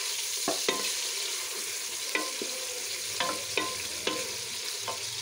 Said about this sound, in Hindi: ये चिकन को हम फ्राई कर रहे हैं।